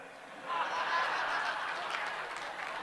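Audience applause at a poetry gathering rises suddenly and holds as a soft, steady patter of clapping hands, heard at a moderate distance in a hall.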